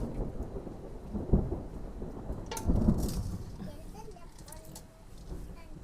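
Rumbling thunder rolls through a dusk rainstorm with steady rain beneath, building to a louder crack midway before easing off, while a person talks softly over it.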